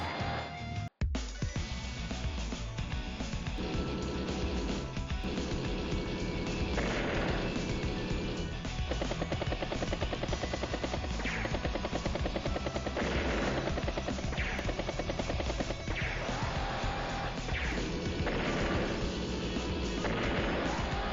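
Aircraft attack effects in the Advance Wars: Days of Ruin video game, with a sharp opening hit followed by loud, continuous rattling gunfire and bomb-like crashes laid over game music.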